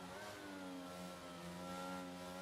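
An F1 22 racing car engine revs high and steady as the car accelerates, a loud continuous whine with rising harmonics and no pauses or voices.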